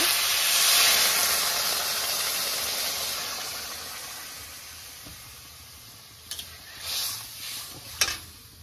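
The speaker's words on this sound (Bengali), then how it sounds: "চাল ডাল ভাজা হয়ে গেছে। এখন জল দিয়ে দিব।" Water poured onto fried rice and lentils for khichdi, a loud hissing burst of steam that slowly fades, followed by a few stirring clinks and scrapes near the end, with no speech.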